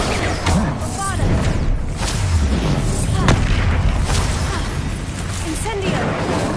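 Spell explosions from the Bombarda curse in the video game Hogwarts Legacy, a run of loud booming blasts layered over dense battle noise and magical effects, with a voice shouting briefly.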